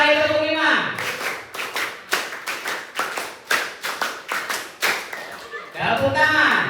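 A crowd at an Indonesian education talk claps together in quick groups of beats following a leader's count. The sharp unison claps come in fast bursts, with a voice speaking at the start and end.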